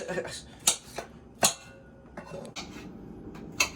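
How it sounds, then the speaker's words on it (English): Knife dicing a yellow pepper directly on a kitchen counter with no cutting board, giving a few sharp, separate chops and clicks over a low kitchen murmur while a person talks nearby. "Linda's cutting up the yellow pepper. Technically dicing."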